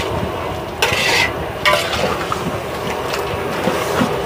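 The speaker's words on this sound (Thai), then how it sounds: "ผัดไก่ใช้เวลานานมากเลยใช่ไหมแม่ให้ไก่มันสุกใช่ไหมคะ" Chicken being stir-fried in a pan at a market food stall, with a steady sizzle and scraping stirs, brief louder clanks of a utensil against the pan, nearby and continuous throughout.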